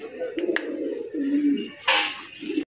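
Pigeons, a pair of red-eyed Pakistani Barhoma, coo nearby in low, rolling, throaty calls, repeated several times, with a few sharp rustles and clicks in between.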